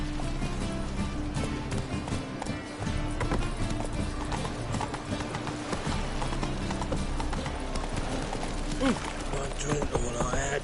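Hooves of the horse Roach in The Witcher 3 clip-clop in a steady rhythm over game music, with voices talking over part of it.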